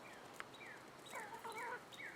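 Chickens near a coop give a few soft clucks and short rising calls, spread out at moderate distance over quiet background noise.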